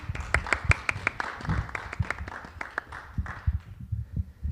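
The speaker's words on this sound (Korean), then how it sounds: "큰 박수 부탁드립니다" Audience applause at a conference session on the metaverse and investment briefings, with scattered claps over a background of low thumps and room noise that thins out toward the end.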